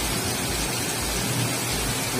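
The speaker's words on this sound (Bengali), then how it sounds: "তবুও একটু বৃষ্টি পড়তে আছে" Light rain falls in the evening, a steady broadband patter that stays constant and fairly loud from start to finish, with no voices.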